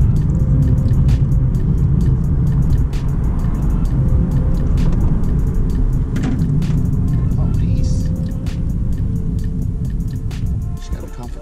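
2016 Nissan 370Z engine held around 3,000 rpm in a steady droning rev, a low continuous hum with faint clicks, fading slightly toward the end.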